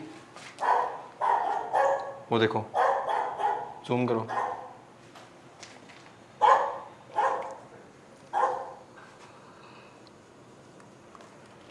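A dog at night barks repeatedly from below, several rhythmic bursts spaced a second or so apart, then a few more isolated barks, moderately near, mixed with people talking excitedly.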